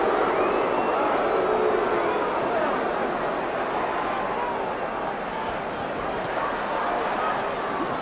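The arena crowd at the Muhammad Ali vs Joe Frazier heavyweight fight roars and jeers in a dense, steady wash of voices, loud throughout and without pause.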